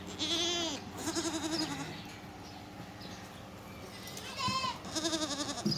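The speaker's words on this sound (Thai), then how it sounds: "คอกนี้จะเป็นคอกลูกแพะนะคะ" Young goats bleat loudly and repeatedly close by in a pen on a dairy goat farm, several high wavering cries overlapping in the enclosed space.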